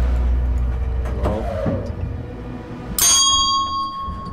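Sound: bell ringing in video game Suite 776

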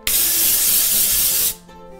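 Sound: texture spray sprayed onto hair

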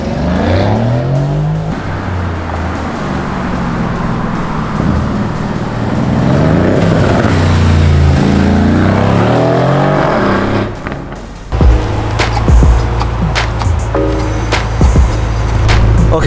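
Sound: car engine with custom exhaust

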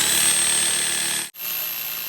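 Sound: electric saw cutting wood

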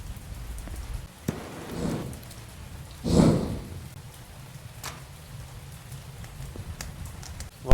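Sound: rain falling in the video game Mon Bazou

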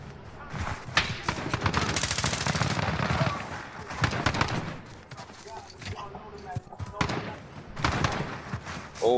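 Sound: gun hip-fired in a video game

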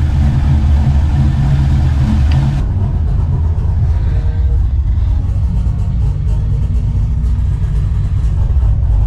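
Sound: V8 car engine idling

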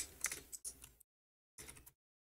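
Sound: typing code on a computer keyboard

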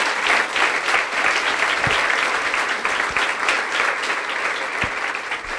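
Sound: applause for the Lord

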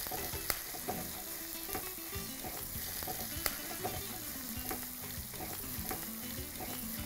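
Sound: onions sautéing in a pan with chana dal

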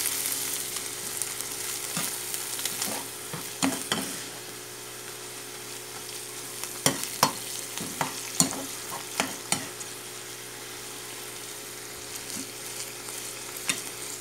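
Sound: stirring ground beef with miso in a frying pan

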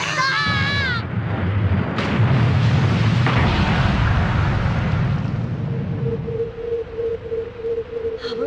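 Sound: explosion in the video game Super Adventure MegaMan

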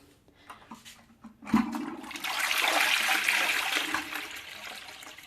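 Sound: toilet flushing with blue toilet freshener block

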